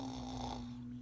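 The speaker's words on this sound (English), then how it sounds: "The snoring goes on and on through the night." Snoring drones as a steady, low nasal rumble, close and continuous for about a second with no talking.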